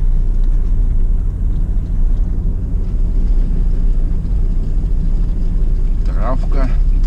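Car driving over rough ground through vegetable gardens, a loud continuous low rumble of engine and bumping suspension, with a brief voice near the end.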